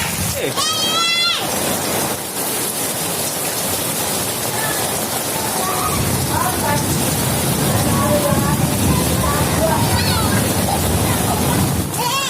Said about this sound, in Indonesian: Seru banget ya, Zam, mandi hujan.